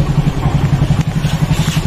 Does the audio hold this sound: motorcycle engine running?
yes